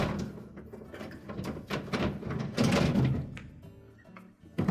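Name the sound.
refrigerator crisper drawer being pulled out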